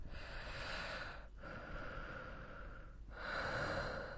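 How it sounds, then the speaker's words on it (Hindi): Slow, heavy breathing over a phone line as an eerie horror-story effect: long hissing inhales and exhales, close and breathy, with two short pauses between breaths. "हल्की हल्की सांसों की आवाज आने लगी।"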